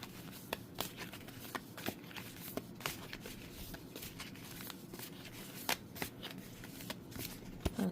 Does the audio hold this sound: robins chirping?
no